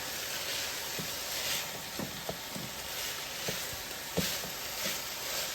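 Pork browns in olive oil with onions and garlic for a spicy curry stew, giving a low continuous sizzle with scattered soft pops and occasional stirring scrapes.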